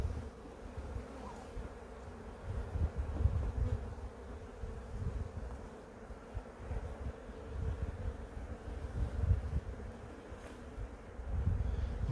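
A honeybee swarm being moved into a hive gives off a continuous low buzzing hum from many bees close by, steady with slight swells and no talk.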